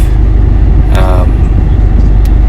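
A 2017 Mercedes A45 in race mode revs with a loud, steady engine roar close by, and a brief voice cuts in partway through.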